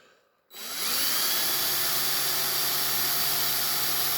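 A power drill starts abruptly after a short quiet moment and then runs at a high, steady whine, drilling out rivet posts on a Matchbox Super Kings die-cast tanker, loud and close, without pause.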